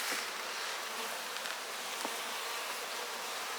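Honeybees buzz steadily at an opened hive colony during supering, a dense, even hum that holds throughout with no talk over it.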